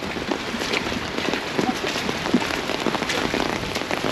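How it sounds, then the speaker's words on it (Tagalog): Heavy rain pours steadily in a flood-hit area below a dam, a dense, constant hiss of drops striking surfaces, fairly loud and close throughout. "Lakas po na ulan oh."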